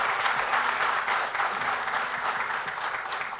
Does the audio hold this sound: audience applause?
yes